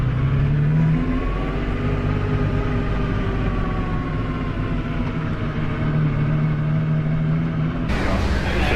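Ferrari F50 engine heard from on board at Monterey Car Week, a loud sustained engine drone with rising and falling rev tones that continues throughout, ending in a brief surge.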